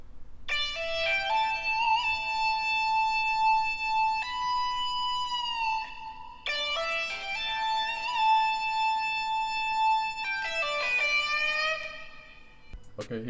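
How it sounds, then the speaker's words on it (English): Electric guitar lead preset playing a looping melodic phrase, bright sustained notes repeating in sections with brief breaks, clear and alone. "So the last sound we've added is this electric guitar."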